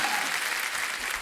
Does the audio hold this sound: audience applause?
yes